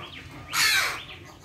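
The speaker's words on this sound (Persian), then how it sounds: "زاغ." A crow in a bird garden aviary gives a single loud, harsh caw at close range, standing out over a quiet background.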